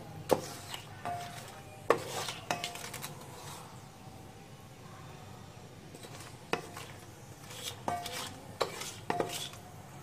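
Mixed vegetables stirred in a pan with a spatula, intermittent scraping and sharp knocks against the metal in irregular bursts, close and moderately quiet, with no voices.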